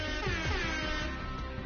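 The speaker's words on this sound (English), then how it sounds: "You get the air horn." Fortnite air horn emote blares as a loud, sustained, brassy honk lasting under two seconds, close and alone with no talking over it.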